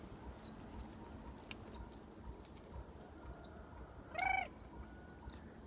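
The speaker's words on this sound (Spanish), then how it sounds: "Vieron, ahí salió volando un pájaro." Birds in a pea field outdoors, faint scattered chirps over a steady breezy background, with one brief louder burst of calls or wing noise as a bird flies off near the end.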